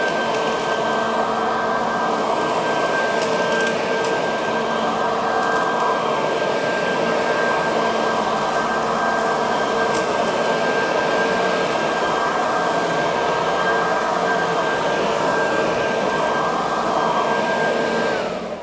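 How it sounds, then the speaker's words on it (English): A Sun Joe leaf vacuum mulcher runs steadily on a garage floor, a loud continuous motor whine with a high tonal hum and rushing air and no break throughout. "not only did this vacuum it up, but it mulched it at the same time"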